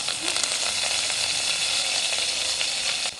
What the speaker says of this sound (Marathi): ಈಗ ಎಣ್ಣೆ ಕಾದದ, ಜೀರಿಗೆ ಹಾಕ್ತೀನಿ.